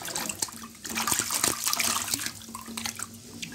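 Water runs outdoors from a tap while seriguela fruit is washed, a continuous splashing rush with uneven bursts as the flow hits the fruit, close and fairly loud.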